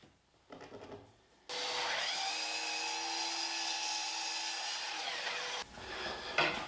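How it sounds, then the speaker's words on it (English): White oak boards ripped into narrower widths on a power saw, a loud steady whining cut lasting about four seconds after the blade spins up, then the motor winding down, with no talking. "So I'm going to rip these boards about 1/4 of an inch wide, and then I'll joint and plane them square"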